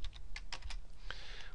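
Quick bursts of typing on a computer keyboard while naming a pivot table in Excel, a handful of crisp close key clicks in an irregular rhythm, alone without talk.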